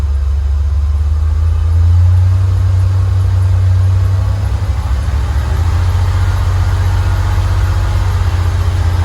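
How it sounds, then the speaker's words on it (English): Engine of a 1986–1988 Ford fox body Mustang fitted with a mass air flow conversion kit, a steady close, loud low rumble from about 900 rpm idle, rising only slightly as the revs are brought up very slowly. "I'll very slowly start bringing the RPMs up."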